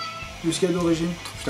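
A cat meows in short tonal cries beneath a voice, which talks over it for most of the moment.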